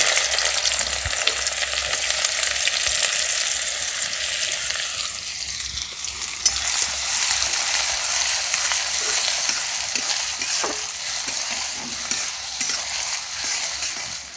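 Chopped onion dropped into hot oil with cardamom, cloves and cinnamon for a dhaba-style egg tadka, a loud, continuous sizzle that surges as the onion goes in, with occasional stirring scrapes of a spatula against the pan.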